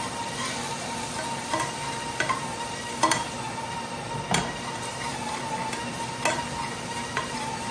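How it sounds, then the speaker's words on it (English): Garlic sautéing in a pan, a steady soft sizzle under occasional scraping clicks of a utensil stirring against the pan, close and even throughout, no talking. "And I'm going to let it kind of saute up here."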